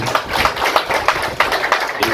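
Audience applause breaking out at a film music launch as a guest, Sawai Bhai Sahab, arrives: steady dense clapping with scattered sharper claps, filling the room throughout.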